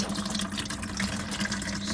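Coolant draining steadily out of the radiator of a 2020 Dodge Charger V6 during a radiator replacement, a continuous close trickling and splashing of liquid with no pauses and no talk.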